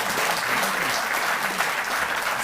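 Dense, continuous applause from a crowd at a ceremony honouring athletes in Delhi, an even wash of clapping at moderate loudness throughout.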